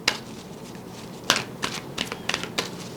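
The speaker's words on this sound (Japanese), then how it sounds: "ちょっと最後にもう一枚オラクルカード引いてみたいと思います。" Oracle cards are shuffled and drawn from a deck in a quiet room, making soft, close papery riffles and flicks in short irregular bursts, with no talking.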